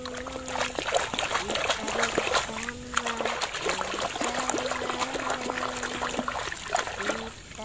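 Toy trucks, including a bulldozer, being washed in water: steady splashing and trickling close by, running beneath a person talking almost the whole time.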